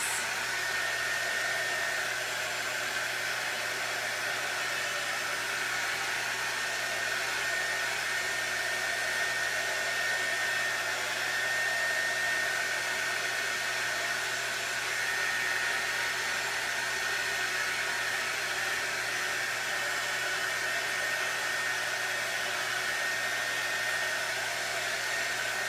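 A hair dryer blows steadily to dry paint on a canvas. It gives a constant, loud, close whooshing drone that lasts without a break for the whole stretch and is not accompanied by any talking.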